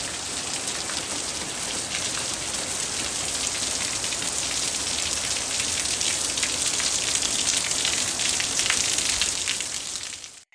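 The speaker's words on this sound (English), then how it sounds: "it's raining outside" Steady, dense rain falling outdoors on a Monday, a continuous even hiss of drops on surfaces with no breaks, fairly close and filling the whole stretch before fading at the very end.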